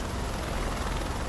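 Helicopter, an H130 or H125 in Microsoft Flight Simulator 2024, gives a steady, broad rotor and turbine roar with a fast rhythmic blade chop, continuous for a moment.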